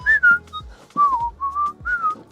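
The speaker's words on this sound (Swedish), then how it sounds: "Den ska jag vissla alltså." A person whistles a short melodic tune in several clear phrases, close and alone with no talk over it.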